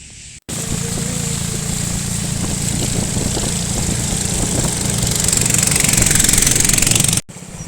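A boat engine on the Sangu river on the way to Nafakhum runs loud and steady at close range, a continuous rattling drone that cuts out briefly at the start and near the end.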